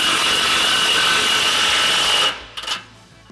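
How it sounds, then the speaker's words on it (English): A power tool drives an 18mm socket to tighten a bolt while installing tubular rock sliders on a Jeep Wrangler JL. It gives a loud, steady whir for about two seconds, then cuts off, followed by a couple of brief clicks. "Using our 18mm socket, we can push up on some weight just to support a little bit and tighten it down."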